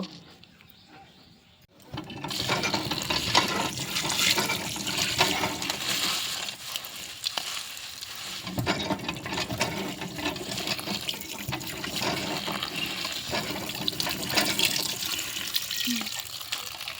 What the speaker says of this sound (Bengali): এবার আমি শাকগুলোকে ভালো করে জলে ধুয়ে নেব